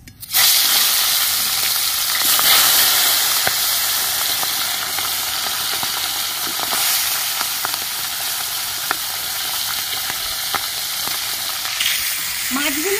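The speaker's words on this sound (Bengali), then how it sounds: "এবার আমি মাছগুলো ভেজে নেব" Pieces of rohu fish fry in hot oil in a wok over a lit stove, a loud, steady, close sizzle that continues throughout with occasional stirring clinks.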